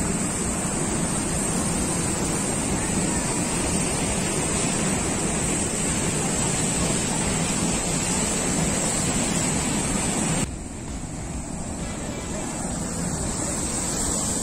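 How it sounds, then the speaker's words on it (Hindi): A large waterfall at Naldurg Fort in Maharashtra pours with a loud, dense, unbroken roar of rushing water that drops slightly in level near the end. "बहुत बड़ा वाटरफॉल है।"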